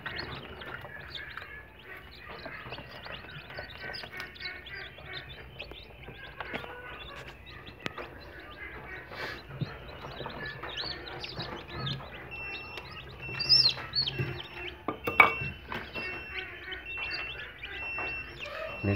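Newly hatched chicks inside an egg incubator give soft, high repeated peeps and chirps, scattered and overlapping above a constant machine hum, faint and fairly close throughout.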